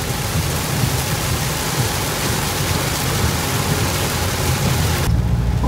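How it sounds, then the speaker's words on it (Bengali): Heavy rain pours onto a road in Kolkata as a dense, loud, continuous roar, with the upper hiss dropping away briefly near the end. "বাট জাস্ট একবার বৃষ্টির কন্ডিশনটা দেখো"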